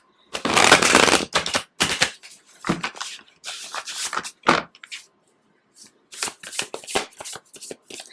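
Tarot cards are shuffled by hand in close, crisp riffling bursts, several separate rounds of flicking and snapping with short silent pauses between them.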